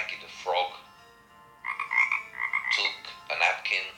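A frog croaks in several rough, rasping bursts, one early and then a longer run of close, fairly loud calls in quick succession.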